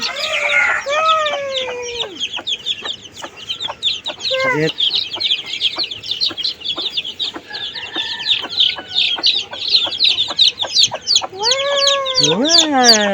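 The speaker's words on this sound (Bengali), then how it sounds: "মুরগি অনেকগুলো বাচ্চা নিয়ে এসেছে" A hen clucks among her many chicks on a rooftop garden, the chicks peeping busily and constantly while a rooster crows a few times, close and lively throughout.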